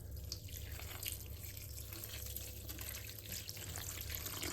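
Water runs steadily into a meat mixture with onion, a continuous close trickling and splashing that stays even throughout, with no voices.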